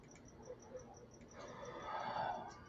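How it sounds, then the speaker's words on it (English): Crickets chirp outside at night in a faint, steady series of high pulses that repeat evenly, with a soft, broad rustle growing louder partway through. "I can't believe you can hear the crickets."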